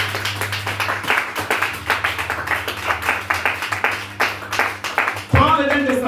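Loud, steady clapping from a church congregation during a sermon, dense rhythmic claps sustained for several seconds with voices underneath.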